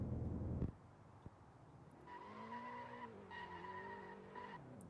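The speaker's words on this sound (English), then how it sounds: "let's get that Nissan car going here" A Nissan car in a video game accelerates and skids, a brief rumbling burst giving way to a steady engine drone and tire squeal that wavers in pitch for several seconds.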